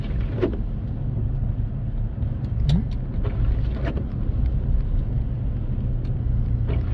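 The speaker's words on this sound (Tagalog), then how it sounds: "grabe guys yung hangin, lakas" Strong wind roars outside a house as a heavy rainstorm approaches, stripping leaves from the trees in front. The sound is a continuous, low buffeting rumble that holds steady throughout, with no voices.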